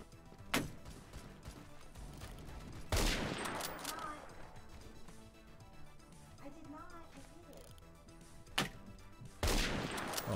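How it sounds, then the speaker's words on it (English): Gunfire in the first-person shooter Phantom Forces, sharp sniper-style shots cracking out at intervals with bursts of rapid fire between, loud reports over a busy background of battle noise. "He's putting a lot of pressure on us with that sniper."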